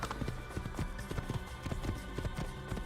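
Rapid clip-clop of a horse's galloping hooves in the video game Assassin's Creed pounds along in a quick, steady rhythm, close and loud over a low rumbling background.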